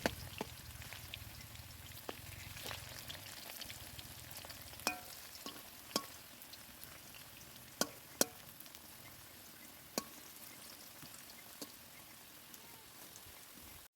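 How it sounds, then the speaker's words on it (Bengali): Potatoes frying in hot oil in a pan on the way to a meat curry: a steady soft sizzle with scattered sharp crackles and pops, close up and with no talking. "আলুগুলো এই যে এখন ভাজা করছি"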